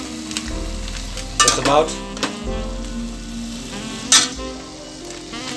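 Chicken and vegetables sauté in a pan with a steady close sizzle, broken by a few clinks and scrapes of stirring, and a voice speaks briefly.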